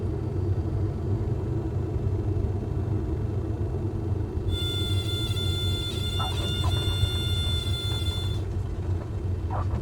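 Light plane in Microsoft Flight Simulator rolling down the runway after touchdown, a steady low rumble of tyres and idling engine throughout, with a high tonal whine and scattered clicks joining midway.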